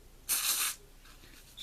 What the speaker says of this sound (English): I'm going to spray it on my roots and kind of rub it in.